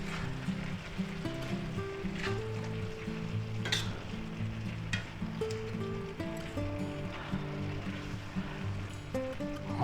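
8 ounces of mushrooms sizzle and fry in a pan of spicy beef and vegetable stir fry, a steady close crackle with scraping stirs and occasional clacks, almost no talk.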